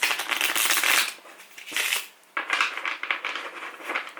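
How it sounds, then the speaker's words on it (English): A deck of playing cards being shuffled at home: close, crisp riffling bursts, one long flutter, a pause, then more rapid riffles, with no talk over it. "Maybe we can get a slow motion of the shuffle."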